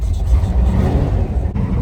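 A 1971 Hemi muscle car with a manual choke, its engine rumbling and revving up close in a low, steady growl with a brief dip near the end.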